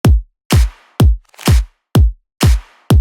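Punchy soloed kick drum hits alternate with crisp layered claps in a steady beat, each hit short and dry, loud and isolated with silence between.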